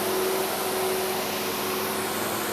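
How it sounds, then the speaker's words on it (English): Door frame groove machine with its milling cutter main shaft running, a steady loud whirring drone with a faint high tone held throughout, no voices. "we try the main shaft for the milling cutter"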